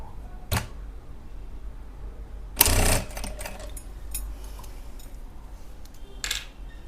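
Domestic sewing machine running a straight seam along a palazzo pant edge at a half-inch margin, heard as a few short whirring bursts with one louder, longer run in the middle, quiet pauses between.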